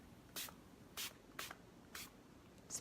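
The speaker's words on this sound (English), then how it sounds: "spray my face and set it" e.l.f. setting spray misted onto a face, five short, soft hissing spritzes spaced about half a second apart, close and quiet with no talk.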